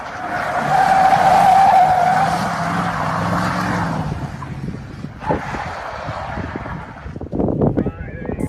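Car drifting during stunt-driving training, tires skidding and squealing in a sustained screech before fading, followed by rough engine and road noise.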